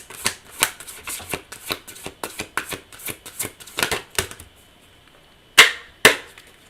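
Tarot cards are shuffled in a quick series of crisp riffling bursts, then a pause before two sharp card slaps close at hand; no talking.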